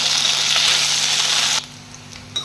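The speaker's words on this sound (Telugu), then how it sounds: "ఇదే ఆయిల్ ఇప్పుడు బెండకాయలు కూడా ఫ్రై చేసుకోవాలి" Okra frying in hot oil in a pan, a loud steady hiss and crackle that cuts off abruptly partway through, leaving a quiet background with a faint clink near the end.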